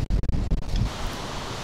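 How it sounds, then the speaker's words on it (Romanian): Strong wind buffets the microphone on a mountain hike near Chalaadi Glacier in Mestia, with gusty low rumbles at first, then settling into a steady broadband roar. "bate vântul foarte tare"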